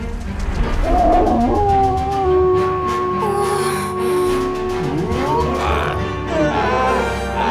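A dog howls in a film scene, a loud sustained wail that rises and bends over dense soundtrack noise and music, with no talk.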